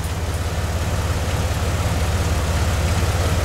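A Jeep with a Dana 35 axle idles in gear at about 750 RPM in two-wheel drive, a steady low rhythmic engine hum heard up close with no talking.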